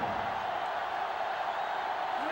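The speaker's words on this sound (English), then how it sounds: "The sellout crowd is really making a difference now as these guys can't even call the play." Steady roar of a sellout stadium crowd in the football game NCAA Football 07, a continuous loud wash of massed voices with no breaks across the short stretch.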